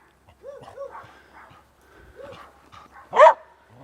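A puppy barking at a Belgian roadside chapel, several short yips and whimpery barks close by, ending in one louder sharp bark, with a person speaking softly in between.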